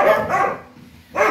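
A dog barks loudly and close by: a couple of sharp barks, a brief pause, then another bark, with no talk over them.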